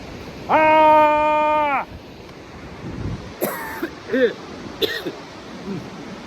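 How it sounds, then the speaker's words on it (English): A single loud, sustained yell from the belly bursts out and holds for over a second before cutting off, and a few shorter throaty vocal sounds follow, near and clear over faint beach ambience. "Let me do a real loud volume yell."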